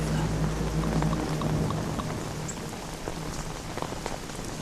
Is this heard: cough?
no